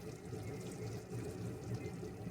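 Ground coconut milk poured into a pot of simmering kuzhambu, a soft continuous liquid pouring and bubbling sound, faint and close, with no talking.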